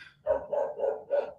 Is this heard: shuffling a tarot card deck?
no